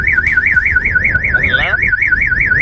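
A car alarm blares close and loud with a rapidly warbling siren tone that repeats steadily throughout, heard among collector JDM cars including an Evo 7 RS and an R34 GT-R.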